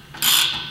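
A ratchet wrench gives a short, sharp burst of clicking up close, lasting under a second with no talk.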